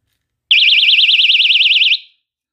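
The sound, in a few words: personal safety alarm keychain sounding at 130 decibels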